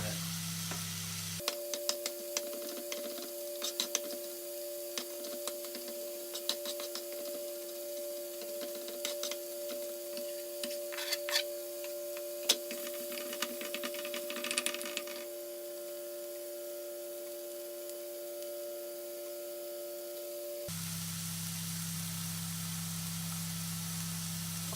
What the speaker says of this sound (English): garlic and leave everything to saute for about 5 minutes.